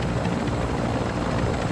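A helicopter in Call of Duty Modern Warfare II gives a steady, loud rotor and engine roar with constant chopping texture, heard alone without speech.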